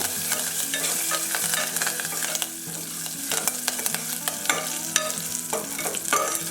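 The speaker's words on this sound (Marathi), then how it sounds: "त्यानंतर कढीपत्ता आपण छान तडतडू द्यायचा" Garlic and curry leaves crackle and spit in hot ghee on a low flame, a dense steady sizzle with sharp pops and a spoon stirring through it, no voices.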